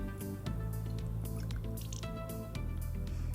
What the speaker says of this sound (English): Now I'm about to add some oil on the pan to saute my vegetable.